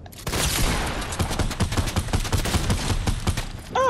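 Rapid gunfire from Fortnite, played in duo squads, rattles off as a close, loud burst of many quick shots in a steady run, ending with a brief chirping effect.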